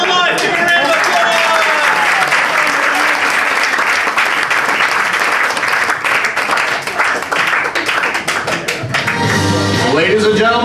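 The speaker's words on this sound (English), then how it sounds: "Give him a round of applause" A comedy festival audience gives a loud, sustained round of applause and cheering that fills the room, fading slightly near the end as music swells in.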